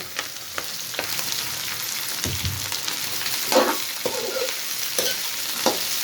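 Okra hisses and sizzles steadily in hot oil, with occasional scraping stirs and clinks of a utensil against the pan.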